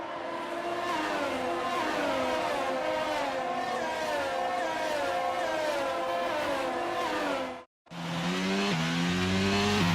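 Several racing car engines whine and rev together in a steady, dense roar, briefly cutting out before a single engine shifts up through the gears.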